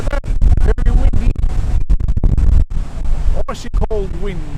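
Strong, icy cold wind buffets an outdoor car show at night, roaring and gusting against the microphone in loud bursts while someone talks over it.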